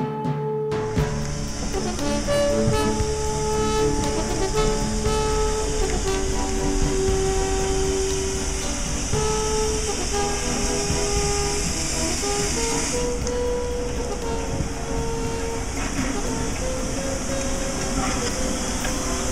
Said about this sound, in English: At the end of the journey, the locomotive goes to the depot.